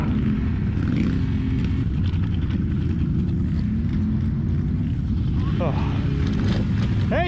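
A Ski-Doo Renegade XMR 1000 snowmobile held at full throttle on a muskeg ride gives a loud, continuous engine roar and drone throughout, with riders talking over it.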